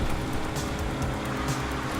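A car drives in Grand Theft Auto V, a continuous loud engine and road rumble that holds steady throughout with no talk over it.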